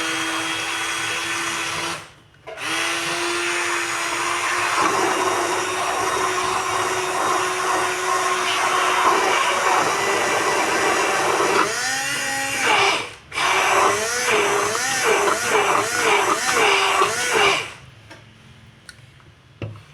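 A handheld immersion blender whirs through mushroom soup thickened with milk, a loud motor whine that runs steadily, cuts out briefly, and then rises and falls in pitch as it churns before stopping.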